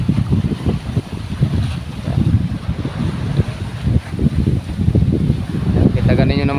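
Strong wind and rough sea waves batter a harbor where boats lie anchored, a loud continuous roar of gusts buffeting the microphone over churning water close by.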